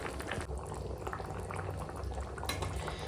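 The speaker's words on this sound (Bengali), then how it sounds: "দেখো মাংসটা ধিমি আঁচে বসিয়ে রেখেছি" Chicken curry simmering on low heat in a pot, a steady close bubbling with soft popping throughout, no voices.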